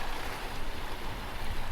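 Waves roll in on a Sussex or Devon shore at Beer, a steady broadband wash of surf and water with no talk, loud and continuous throughout.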